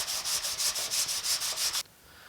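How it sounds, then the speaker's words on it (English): Body filler on a 1950 Chevy truck is sanded by hand in about a dozen quick rhythmic back-and-forth strokes, close and scratchy, stopping abruptly into near silence. "So I'm going to get this sanded and then I'll bring you back"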